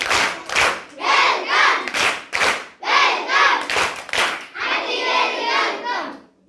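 An audience at a school event bursts into rhythmic group clapping of welcome, loud and close, several bursts in a row with a few shouts mixed in, and no talk over it.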